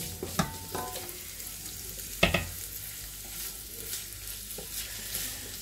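Ground meat for a bolognese sauce sizzles gently in a pan, with a few sharp scrapes and clacks of a spoon as it is stirred, heard close and without talking.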